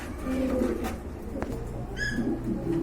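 Domestic pigeons, a pair kept for sale, coo in soft repeated throaty bursts close by, with a brief higher chirp partway through and no talk over them.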